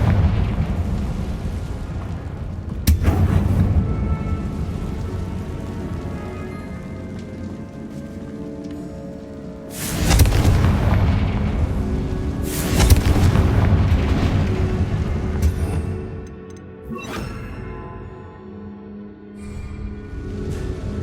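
Confringo blasting spells go off in the game Hogwarts Legacy inside a tomb, with loud booming explosions striking at intervals and rumbling debris trailing between them.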